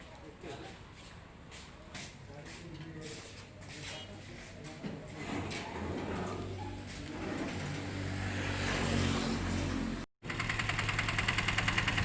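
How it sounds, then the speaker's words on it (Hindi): A diesel tempo truck carrying motorbikes idles with a knocking rumble, then revs louder as it pulls away; people talk over it. "ये टेम्पो हमारे यहाँ से अहमदाबाद के लिए रवाना हो रहा है"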